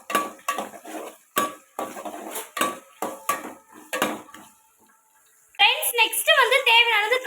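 Onions and green chillies are stirred in a pan, with a spoon scraping and tapping the metal in an irregular rhythm, close and fairly loud, followed by someone speaking.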